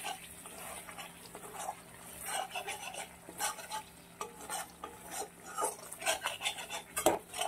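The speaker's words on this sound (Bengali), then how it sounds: "এবারে এই মশলাটা খুব ভালো করে কষিয়ে নেব" Close, irregular scraping and clinking of a spoon in a pan as a spice masala is stirred and sautéed in oil for a paneer and pointed gourd curry, with a faint sizzle and a steady low hum underneath.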